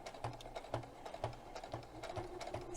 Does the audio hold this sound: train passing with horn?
no